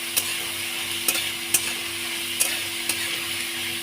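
Vegetables stir-frying in a hot wok with ginger, garlic and onion paste for veg fried rice, a steady close sizzle broken by several sharp scraping clicks of the spatula at irregular intervals, no voices.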